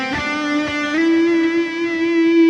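Electric guitar played through a Positive Grid Spark amp with reverb on, a close, sustained bright note ringing steadily for a few seconds after a short picked attack, with no voices.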